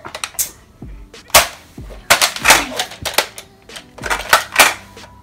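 Toy needle gun firing balls in a backyard shooting game, giving several sharp snappy pops spread across the stretch, loud and close with short gaps between bursts and no talking.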